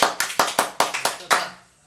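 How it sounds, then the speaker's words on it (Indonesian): A small group claps at a gathering of a Honda Brio car community in North Sulawesi, about seven sharp bursts in a short uneven run, close and loud, then fading out. "Kasih tepuk tangan dulu untuk"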